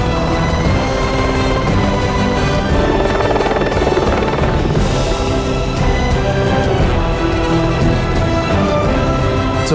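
A loud, continuous helicopter roar with steady rotor thumping, close and overwhelming, filling the whole stretch without letup during a glacier rescue.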